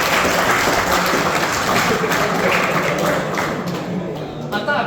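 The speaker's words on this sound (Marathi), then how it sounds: "खरं वाजवा बघू टाळ्या" An audience at a live talk claps: dense, loud applause from many hands fills the room, then thins slightly toward the end.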